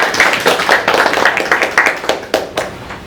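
A small audience claps at a business networking meeting, with a loose cluster of distinct hand claps that thins out and tapers off toward the end.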